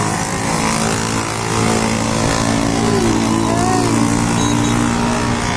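Road traffic below a vantage point makes a loud, continuous rumble of passing cars and motorcycles, with steady engine drone and a whining pass near the middle.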